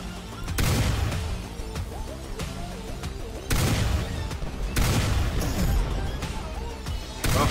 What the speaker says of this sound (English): Meanwhile, Thunder Explosions is actually hitting me